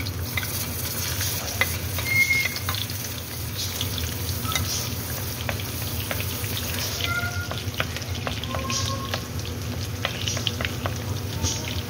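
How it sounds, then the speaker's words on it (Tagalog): Garlic sautés in oil in a pan, giving a steady, close sizzle and frying crackle throughout, with occasional stirring clinks and scrapes of a utensil against the pan. "Ayan, mag-igisa lang tayo ng bawang."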